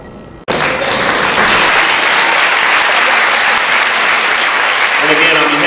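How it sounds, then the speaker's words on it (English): Loud, sustained applause from a school assembly crowd breaks out suddenly and holds steady as a dense, even wash of clapping until the end. "How about another round of applause?"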